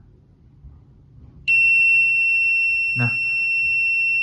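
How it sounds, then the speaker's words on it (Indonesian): Buzzer on a phase loss protector for a 3-phase motor panel sounds a fault alarm, a loud, steady, piercing continuous tone that starts abruptly and holds, with a brief spoken word over it. "buzzer akan berbunyi menandakan bahwasanya ada gangguan yang terjadi pada sistem"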